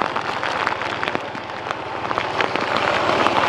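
Heavy rain pouring down in Saigon during the Mid-Autumn Festival, a dense, steady hiss of drops spattering on surfaces close by, loud and unbroken throughout.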